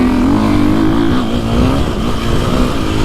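A 450 dirt bike engine, a KTM 450 XSXF or Husqvarna FE450, revving at a motocross track with a barky exhaust, loud and close with a rising and falling throaty drone throughout.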